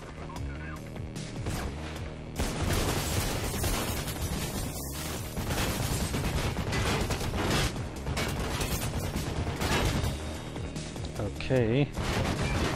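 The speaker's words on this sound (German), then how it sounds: "ich hab mein Maschinengewehr" Rapid machine gun fire and other game combat noise ring out in a dense, loud wash from about the two-second mark in Mirror's Edge, with a brief spoken word near the start.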